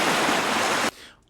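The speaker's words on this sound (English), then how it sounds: "we've got some waves here." Ocean waves in a field recording: a dense, steady broadband wash of surf that cuts off abruptly near the end, leaving faint low background.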